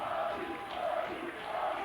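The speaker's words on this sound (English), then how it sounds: "crowd is getting loud" Crowd noise swells steadily at a high school wrestling match involving South Kitsap, with a loud sustained din of many voices throughout, without any clear single voice standing out.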